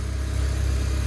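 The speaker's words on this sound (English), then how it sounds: "The exhaust sounds pretty good." A 2001-2005 Honda Civic with a 1.7 engine, new clutch and flywheel and a cat-back exhaust runs at a steady idle, a loud, close, low exhaust rumble with no talk.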